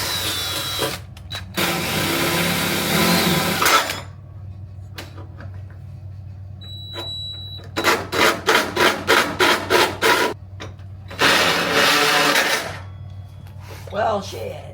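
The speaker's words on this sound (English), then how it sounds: "let me get a little bit of a pilot hole going" A power drill whirs close by in several separate bursts, drilling a pilot hole, including a quick stuttering run of short pulses partway through.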